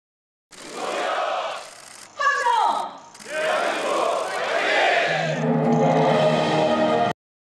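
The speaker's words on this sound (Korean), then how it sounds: "중소기업 대한민국 파이팅을 외쳤는데" A crowd holding blue towels at a Korean small-business event shouts a loud unison cheer in bursts, with a short break and a rising whoop, then cheering that carries on to an abrupt stop.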